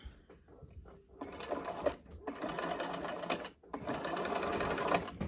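A sewing machine stitches a doll school dress collar, running in several quick bursts separated by short pauses, close and fairly quiet with no talking.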